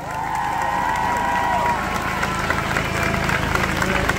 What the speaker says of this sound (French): Et on peut applaudir cette première victoire